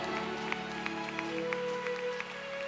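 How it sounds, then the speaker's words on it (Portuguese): A church congregation at an evangelical conference's night service claps steadily in rhythm, the applause fairly faint and roomy beneath sustained tonal hum. "Aplauda bem forte ao Senhor Jesus por esta alma no altar."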